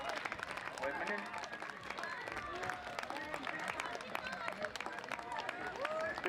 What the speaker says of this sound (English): Big cheer, I think we have another ultraman coming in there.